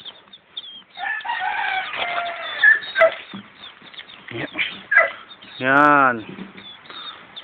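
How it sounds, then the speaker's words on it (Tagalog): Newly hatched chicks on a farm peep in a high, repeated chorus close by while someone speaks over them; one longer, louder call stands out near the middle. "Ito po sir, mga papisa nating sisiw."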